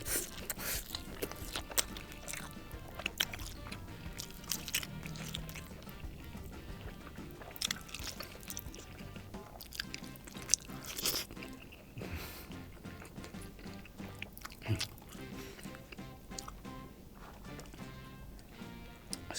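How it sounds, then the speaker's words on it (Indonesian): Close, continuous chewing and biting of jumbo dim sum eaten with raw steak, with wet crunchy bites and smacking repeating throughout. "Kita makan pakai steak nih guys."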